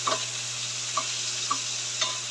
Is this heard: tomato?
yes